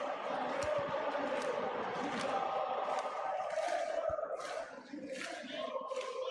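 Stadium crowd in the PES 2025 football video game, a broad echoing roar of spectators rising in waves with scattered shouts, steady and a little distant throughout.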